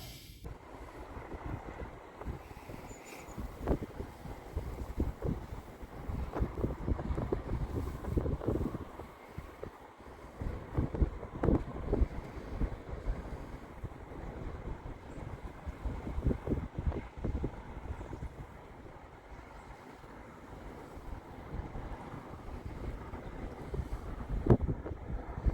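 Gale-force wind buffets a microphone beside a fenland drain during a pike fishing session, a steady rough rush broken by repeated heavy gusts that thump and roar with no pause and no talking.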